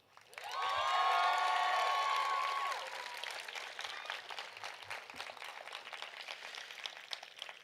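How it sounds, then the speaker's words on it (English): Graduating seniors at the Berkeley High Class of 2025 graduation ceremony burst into loud, sustained applause and cheering for their families, a dense crowd roar that peaks early and then settles into steady, scattered clapping. "Seniors, can you give your families and friends the loudest of applause and cheer?"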